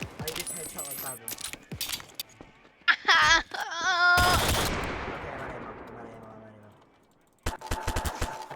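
An M1 Garand fires in the Cartoon Cat survival video game, with sharp close shots and a ringing metallic ping over echoing game effects, a wailing tone and a steady hum.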